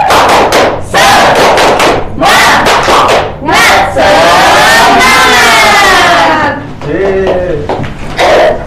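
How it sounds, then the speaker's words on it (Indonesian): An elementary school class stands and performs a tepuk semangat cheer, clapping in quick rhythmic bursts and then shouting together loudly and close, with one long drawn-out group yell near the middle. "Ayo semuanya berdiri. Tepuk semangat."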